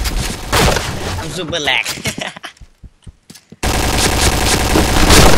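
Rapid automatic gunfire in an online shooter game, loud bursts of crackling shots with a quieter gap of scattered single pops, then a dense sustained barrage; a player's voice talks over it.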